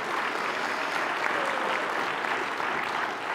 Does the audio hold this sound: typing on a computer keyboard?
no